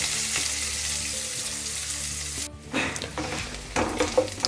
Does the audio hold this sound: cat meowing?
no